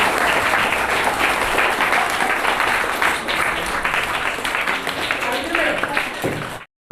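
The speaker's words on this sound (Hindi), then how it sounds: "हाँ, थोड़ा सा ताली बजा दो।" An audience of students and teachers claps at a school farewell and honour ceremony for a teacher, loud, dense applause with crowd murmur and some voices underneath, cutting off sharply near the end.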